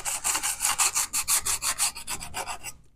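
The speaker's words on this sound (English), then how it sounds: "So I'm just going to take some burned up sandpaper and" Burned-up sandpaper sanding the edges of metal MIG gun holder brackets, a steady rapid series of close, rasping back-and-forth strokes with no voices, stopping abruptly just before the end.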